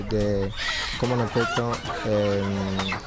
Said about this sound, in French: J'ai amené des petits poulets ici.